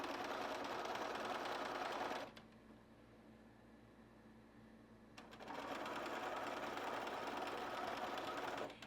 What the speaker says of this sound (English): I line them up and I just start sewing